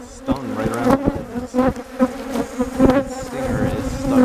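Honeybees buzz loudly and close on a kitchen counter, a dense droning hum that rises and falls as the insects move, with no talk.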